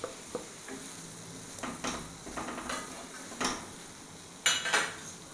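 Fried bitter gourd stirred into sautéed onions in a pan for a pavakka curry, with faint sizzling and a few sharp scrapes and clinks of a spoon against the pan, spaced irregularly and quiet.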